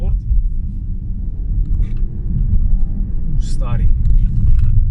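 Small-engine car revving in sport mode, a loud low rumbling drone that swells slightly over several seconds, with a person speaking briefly over it.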